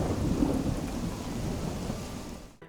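A thunderstorm in Animal Crossing New Horizons: a steady, heavy rush of rain with a deep rolling rumble of thunder, fading out abruptly at the end.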